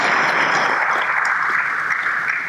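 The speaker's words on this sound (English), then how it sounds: "You want to clap, you can clap." Audience applause fills a conference hall during a panel session at the 2019 Ghana CEO Summit: dense, steady clapping from many people that holds for the whole stretch without a pause.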